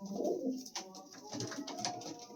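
Pigeons cooing in a pigeon house, several soft, throaty coos and rolling calls overlapping close by, with no talk.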